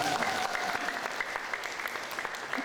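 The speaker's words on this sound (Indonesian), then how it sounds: "boleh tepuk tangan untuk ya" Applause from an audience at an evening Qur'an camp study session, steady clapping from many hands sustained across the whole stretch, with a faint voice briefly audible beneath.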